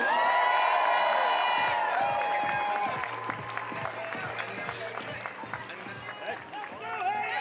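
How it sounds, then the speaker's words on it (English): A crowd at the start line of a T100 triathlon in Wollongong cheers and claps steadily for an arriving triathlete, a dense roar that stays sustained throughout while a commentator talks over it. "Getting a good cheer from the crowd."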